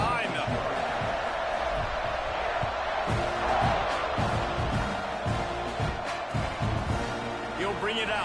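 A college football stadium crowd at kickoff of a Texas A&M versus Arkansas game, a steady loud roar of many voices with rising cheers and scattered claps, under a broadcast announcer's talk.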